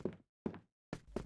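Three heavy footsteps fall at an even pace, each a dull thud, close and alone, in the shooter game CFM.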